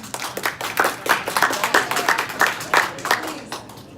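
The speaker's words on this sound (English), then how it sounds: "let's just refrain from the applauding" An audience at a town hall meeting claps in a quick, fairly even rhythm, a burst of applause in a room that stays moderately loud for a few seconds.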